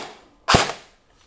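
A Snow Wolf M41A Pulse Rifle airsoft replica fires one sharp, loud shot set to single fire. The crack is brief and stands alone, with quiet before and after.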